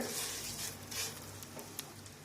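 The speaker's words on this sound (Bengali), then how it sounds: "সিমাইগুলো দিয়ে দিচ্ছি ঘিয়ের ওপরে। নাড়াচাড়া করে হালকা বাদামি ভেজে নেব।" Vermicelli frying in ghee while being stirred in a pan, a quiet soft sizzle with faint scraping and light patter, no one talking.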